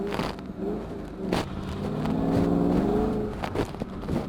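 A manual-transmission car in sport mode revs up and pulls away as the clutch is let out quickly. The engine note rises and swells to a loud sustained whine mid-clip, then eases off, with faint knocks around it.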